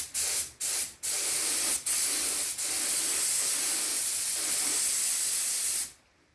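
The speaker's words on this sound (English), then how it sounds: "give us a little test spray." Spray paint is test-sprayed onto cardboard: three quick short bursts of loud hissing, then a brief pause and one long sustained spray of about four seconds that cuts off abruptly, close to the ear.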